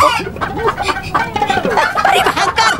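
A voice imitates a rooster with loud, close clucking and squawking calls in irregular bursts, standing in for a man turned into a rooster.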